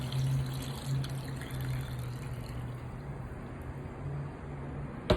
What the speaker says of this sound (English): you add about 4 cups of water